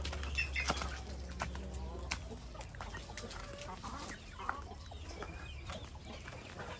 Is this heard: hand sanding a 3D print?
no